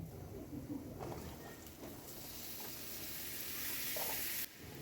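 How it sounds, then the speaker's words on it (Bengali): Cut potatoes and eggplant fry in a pan with turmeric, producing a constant, fairly quiet sizzle that swells slightly and then drops off abruptly near the end. "এর মধ্যে আমি দিয়ে দিব সেই কেটে রাখা আলু এবং বেগুনগুলো"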